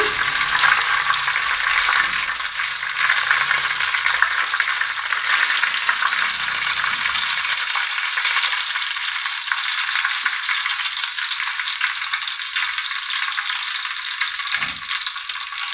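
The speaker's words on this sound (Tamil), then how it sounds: "எண்ணெய் ஊற்றி எண்ணெய் காங்க கடுகு போட்டுக்கலாம் கடுகு நல்லா பொரியட்டும்" Mustard seeds splutter and fry in hot oil in a pot, a dense, steady crackling sizzle that continues throughout, with a few faint knocks near the end.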